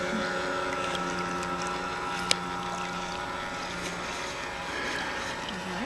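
Small electric motor of a model yacht running on a 6V lead battery, a steady whine holding near and constant as the boat motors slowly across the water, with faint wind and outdoor noise around it.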